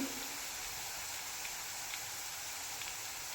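Shev dough frying in hot oil until crisp, a steady close hiss of sizzling with faint crackles, continuous and even throughout without any voices.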